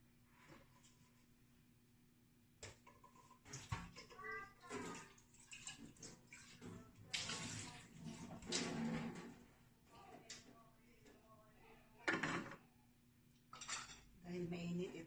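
A saucepan is washed under running water while cooking hibiscus jam, with clattering pot and dish knocks and splashing in irregular bursts, plus a loud clank near the end.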